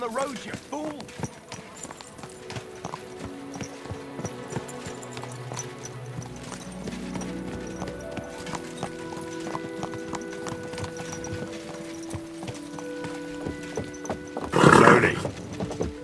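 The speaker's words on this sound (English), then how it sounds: "Watch out with that horse!" Horse hooves clip-clop in a steady rhythm in Kingdom Come Deliverance 2, mid-distance under in-game voices and music, with a brief louder burst of noise near the end.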